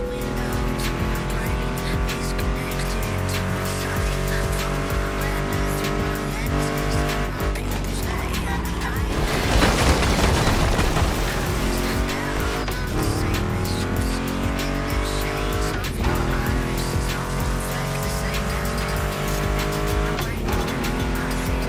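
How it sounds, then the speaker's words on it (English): Mustang GT muscle cars roar in a PS5 street race in The Crew Motorfest, engines revving and shifting steadily with tire squeal and a brief louder surge, all under a continuous music backing. "Meshes well with the sound of the engines, you feel me?"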